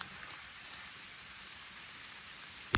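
Steady soft rain falling during a wet-weather hike through woods and wetlands near ponds, a constant gentle hiss with a brief sharp knock at the very end, no talk.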